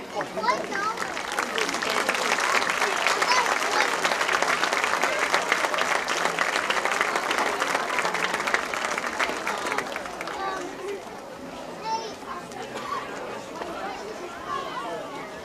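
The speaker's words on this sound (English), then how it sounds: "Please give a generous round of applause for our seniors, their parents, and their grandparents." Crowd at a Red Bay vs Lamar County high school football game applauds seniors, parents and grandparents, broad sustained clapping mixed with murmuring voices that thins out after about ten seconds into chatter.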